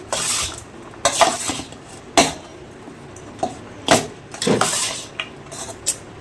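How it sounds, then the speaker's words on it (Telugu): Tamarind rice, pulihora, being mixed in a metal pot gives a series of sharp scraping clanks and scoops from a spoon against the pot, irregular and close, with quiet gaps between strokes. "ఇప్పుడు ఈ పులిహోరని వేసేసి వేసేసి కలిపేసుకోవడమే"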